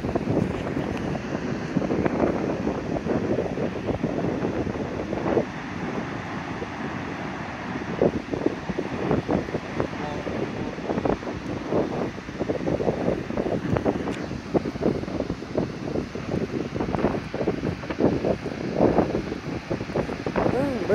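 Strong wind gusting outdoors by the water during a fishing session, a continuous rough buffeting roar across the microphone throughout, loud and close, with someone talking at times over it.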